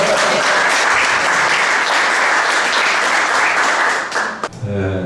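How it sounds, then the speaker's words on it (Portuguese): Seminar attendees applaud loudly in a meeting room, a thick continuous wash of clapping that cuts off abruptly near the end as a voice begins speaking. "Uma salva de palmas novamente"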